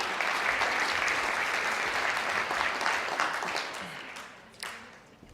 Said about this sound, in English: Give everybody a round of applause for those ideas.